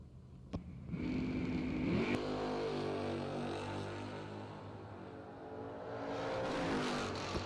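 A Mustang and a Camaro launch side by side at a drag race, engines roaring and climbing in pitch, then holding a strong, loud drone as the cars pull away before revving again.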